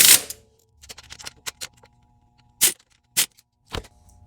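Ratchet wrench tightening the top alternator bolts on a 2006-2008 Honda Ridgeline: a burst of clicks followed by several sharp, separate metallic snaps, close and alone.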